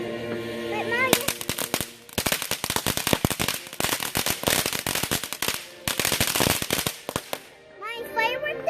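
Firecrackers and fireworks crackle off in rapid, dense bursts of sharp pops, loud and close, with brief pauses between volleys and a whistling rocket near the end.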